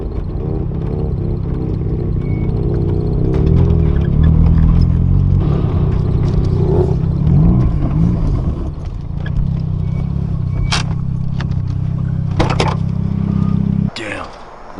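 A Mazda RX-7 street car drives along with a loud, steady engine drone heard from inside the cabin, the note rising and falling with clunks and rattles and occasional voices over it.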